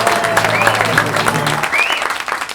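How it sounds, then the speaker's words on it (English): Sustained applause from a television studio audience welcoming guest comedian Ginny Hollands onto a comedy show, a dense steady wash of clapping with a few whoops, loud and unbroken. "please, a round of applause for our special guest comedian"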